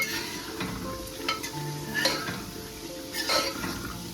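Garam masala, dry coriander and black pepper fry in hot oil with a steady sizzle. A utensil stirs the spices with intermittent scrapes and clinks against the pan, close and clear, and no one speaks.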